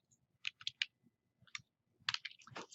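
Several quick clicks on a computer keyboard as a word is typed, the keystrokes coming in short, close, soft bursts separated by brief pauses.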